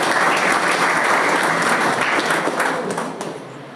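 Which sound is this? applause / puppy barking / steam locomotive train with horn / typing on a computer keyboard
applause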